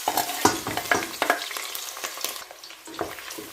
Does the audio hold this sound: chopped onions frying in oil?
yes